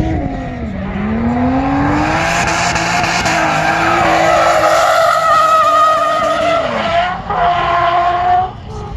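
Race car on the Autodrom Jastrząb circuit during a Puchar Toru Jastrząb 2020 event, drifting with long screeching tire squeal over a loud, wavering engine drone that holds steadily close for the full stretch before easing near the end.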